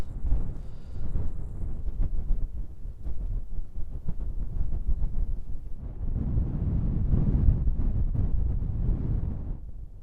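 Wind rumbles and buffets against the microphone in uneven gusts of about 15 to 25, swelling louder toward the end before easing off, at a wild camp in hills.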